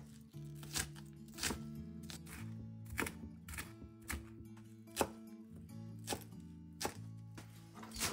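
Onions being chopped on a board for dosa, a series of soft, regular knife thunks about every half second, faint and close, with quiet kitchen background.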